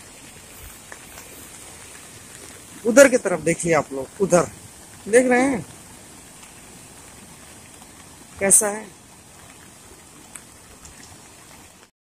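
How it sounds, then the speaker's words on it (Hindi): Steady rain falling outdoors during a flooded, waterlogged walk, a constant soft patter under someone talking in several bursts. "बारिश हो रही है"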